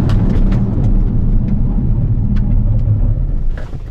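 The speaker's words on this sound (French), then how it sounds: "je vais freiner à la prochaine ligne droite très fort" A Cupra Formentor 310 hp engine roars and rumbles loudly up close, its deep drone steady as the car brakes hard.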